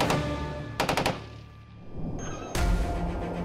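Bradley M242 25mm cannon firing in short bursts: a few sharp rapid reports at the start, a quick cluster of shots, a quieter lull, then another loud burst, all fairly close with no talking.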